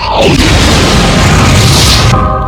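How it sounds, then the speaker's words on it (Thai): A loud, booming explosion with a descending whistle erupts in a shooting video game, followed by a sustained roaring rumble that cuts off abruptly near the end. "ยิงไปอีกชุดนะครับ"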